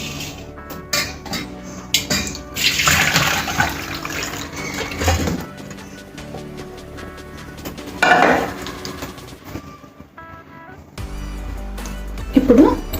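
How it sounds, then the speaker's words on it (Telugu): Boiled cauliflower and its cooking water are tipped into a strainer, giving bursts of pouring, splashing water alongside metal pot and utensil clanks and clinks, close and fairly loud in a home kitchen. "ఇప్పుడు ఇది 10 నిమిషాలు అయింది కదా, స్టెయినర్లోకి తీసేసుకుందాం దీన్ని."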